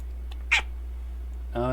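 A kitten meows once, short and fairly close, during a cutscene in the online role-playing game Final Fantasy 14, with a steady low hum underneath and a voice beginning to speak at the end.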